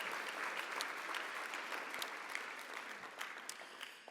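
Steady, dense applause from an indoor crowd at a gun-violence-prevention awards event, with scattered sharp individual claps over a continuous wash of hands, holding strong throughout before tapering slightly at the end.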